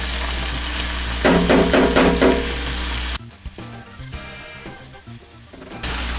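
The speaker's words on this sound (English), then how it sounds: "don't want to leave your garlic in your pan too long while you're browning it" Garlic browning in a frying pan while making a thick, chunky spaghetti sauce, giving a steady close sizzle that swells to a louder crackling burst midway, then drops to quieter scattered pops and clinks.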